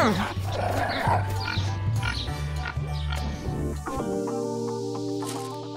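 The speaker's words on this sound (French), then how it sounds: "Un petit bébé cochon?" A baby pig oinks and grunts in repeated short squeals over a busy, continuous background with steady tonal sounds that take over near the end.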